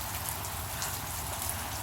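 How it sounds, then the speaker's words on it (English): Steady rain falling outside a porch, a faint continuous patter and hiss with a few louder drops and no voices. "Yep, it's raining out there"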